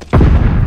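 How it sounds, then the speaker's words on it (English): A stun grenade detonates in Call of Duty Vanguard, a sudden loud, close boom that cuts in after a brief quiet moment and rumbles heavily for the rest of the moment. "Throwing stun grenade!"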